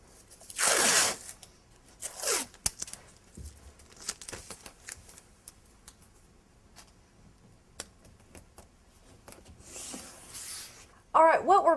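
Masking tape unrolled in a few short tearing rips and pressed along a wall being prepped for paint or faux finish, close and fairly quiet, with brief pauses between strips.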